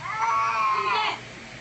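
A cat lets out a single drawn-out, wavering yowl, loud and close, that trails off into quiet, as it fiercely attacks, leaving a person's foot bleeding.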